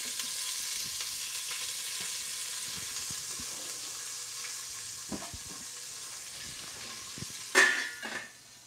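Two tablespoons of cooking oil sizzle softly in a pan as a steady frying hiss, with a brief louder clatter near the end.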